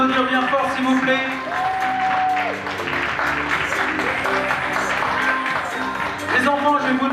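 Audience applauding models at a men's, women's and children's fashion show at an events fair in Metz, steady clapping throughout under music and an announcer's voice.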